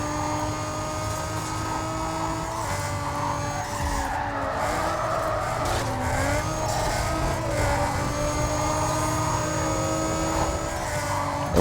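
A race car in Need for Speed Carbon revs and accelerates hard, its engine whine rising and sliding through gear changes while tires squeal and skid, loud and continuous with no voice over it.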